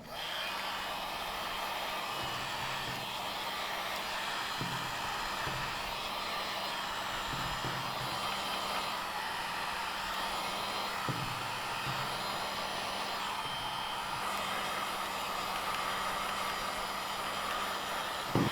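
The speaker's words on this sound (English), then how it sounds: "I'm going to take the heat gun and I'm just going to go around with this and massage all the corners with the heat gun" A heat gun on low heat warms a vinyl skin on a Sony A7 III camera body, giving a constant, steady airy whir that runs unbroken throughout with no talking.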